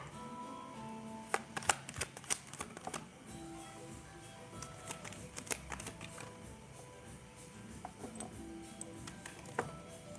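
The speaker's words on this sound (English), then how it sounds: "Let me pull a couple cards and see." Tarot cards are shuffled and drawn, faint quick riffling flicks and soft taps scattered across a quiet room.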